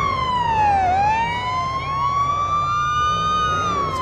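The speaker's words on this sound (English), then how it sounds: "Weird, I heard a second siren." A wailing police siren in Police Simulator sweeps up and down continuously, loud and close, with a faint second siren layered in the background.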